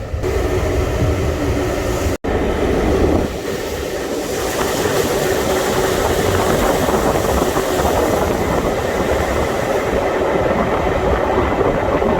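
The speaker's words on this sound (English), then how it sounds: "See if we can hear the engine." Old diesel train engine heard from inside the cab on a Yorkshire heritage railway, a loud, steady droning rumble with rail clatter underneath, continuous apart from a brief cut early on.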